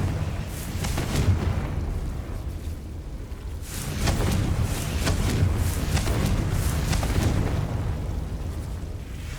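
Fire curse explosions in the Hogwarts Legacy video game, a dense roaring blast sound with rumbling low boom and crackling bursts that swell and fade over several seconds, without speech.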